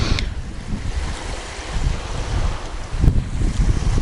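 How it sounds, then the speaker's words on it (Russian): Loud, rushing wind buffets the microphone while large river waves churn and splash steadily throughout. "Волны жесть. Как на море"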